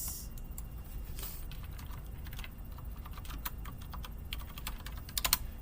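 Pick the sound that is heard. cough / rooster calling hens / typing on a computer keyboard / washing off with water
typing on a computer keyboard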